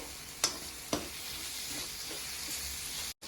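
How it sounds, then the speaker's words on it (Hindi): Masala for baingan bharta frying in a kadhai while it is stirred without pause, a steady sizzle with two sharp scrape accents early on and a brief cutout near the end. "इसे 2 मिनट लगातार चलाते हुए भून लीजिए"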